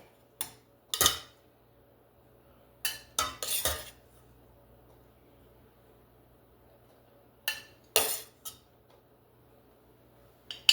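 A serving utensil scrapes and clinks against a bowl while rice is dished up for beef and broccoli in a home kitchen, giving a few scattered bursts of scraping and clattering with quiet pauses between them.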